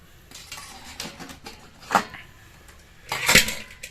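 Cooked ragi noodles are scooped from a pot into another vessel, with scattered metallic clinks and scrapes of utensils and a louder clatter near the end, close and without talk.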